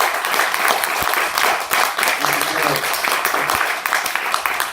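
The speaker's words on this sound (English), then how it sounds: "if everyone can give Kabir a round of applause" An audience at a London screening event celebrating turbans on screen applauds a guest named Kabir, producing a loud, continuous round of clapping with some voices mixed in among the claps.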